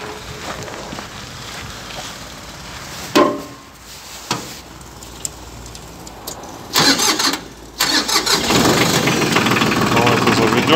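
A Shibaura compact tractor's diesel engine cranks and catches, with short bursts of starter noise before it fires into a loud, steady running rumble near the end.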